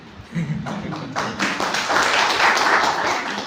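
Audience clapping at the end of a lecture session, a scattered patter of hands that swells and holds steady at moderate loudness, fairly close by.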